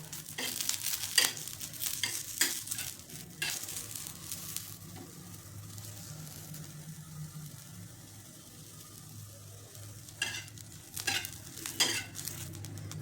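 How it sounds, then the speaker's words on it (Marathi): Green chillies and a dozen garlic cloves roasting in a pan, giving a soft, low sizzle broken by several sharp stirring clinks and scrapes of a utensil on the pan, with no one speaking. "मिरची भाजलेली त्यामध्ये लसणाच्या हे दहा बारा पाकळ्या घातल्या"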